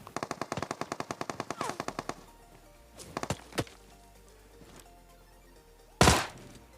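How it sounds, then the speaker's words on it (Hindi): Rapid automatic gunfire from a UMP submachine gun in a first-person shooter game, a fast burst of about twenty shots up front, then scattered single shots and a loud close blast near the end. "एक बंदा मुझे यूएमपी से फायर करते हैं।"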